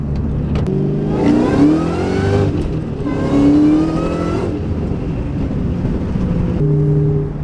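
A loud Ford Mustang Terminator Cobra engine revs up twice, rising in pitch with a whining Roots-style supercharger tone, then settles back to a steady idle.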